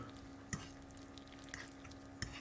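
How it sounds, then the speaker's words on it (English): Batchelors Super Noodles being stirred in a pan, a faint low sizzle with a few soft utensil clinks against the pan at irregular intervals. "Give it a good old stir."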